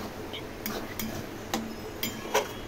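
A Bengali taro leaf curry with hilsa fish heads is stirred in a pan over high flame, a handful of sharp metallic clinks spaced about half a second apart over a low background hiss.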